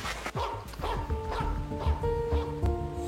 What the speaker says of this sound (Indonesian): Kenapa anjingmu menggonggong?